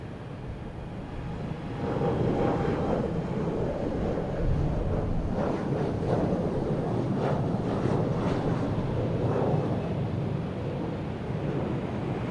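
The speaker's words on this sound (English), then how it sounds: "Plane coming in here, JetBlue from Orlando." A JetBlue plane arriving from Orlando comes in to land at Boston Logan, heard outdoors as a broad roaring rush that swells after a couple of seconds and holds steady under heavy wind buffeting, with no voices.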